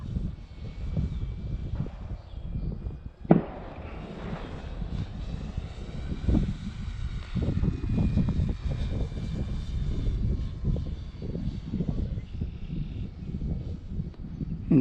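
A Cirrus SR22T's piston engine drones steadily through steep turns, heard from inside the cabin with a constant low rumble, slight shifts in pitch and a brief bump of noise partway through.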